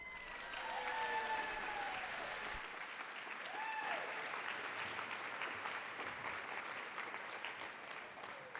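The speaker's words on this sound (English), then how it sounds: "can we give another round of applause?" A large conference audience at an opening plenary in San Antonio claps loudly and continuously, the broad applause sustained at full strength with a few brief tonal sounds passing through.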